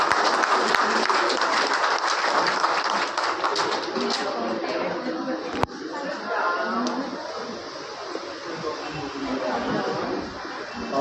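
Applause from a crowd at a BSNL staff retirement farewell ceremony, dense clapping that fills the room for the whole stretch, easing slightly partway through before continuing steadily.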